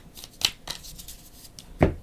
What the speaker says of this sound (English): So we're going to shuffle up his tiles.